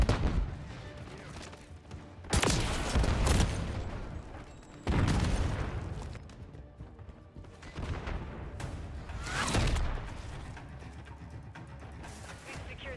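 Call of Duty Black Ops 6 gunfire comes in several loud, sharp bursts of shots and booms, separated by quieter stretches, with no talking.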